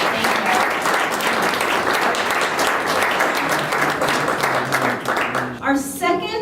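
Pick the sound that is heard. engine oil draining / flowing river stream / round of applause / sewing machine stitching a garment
round of applause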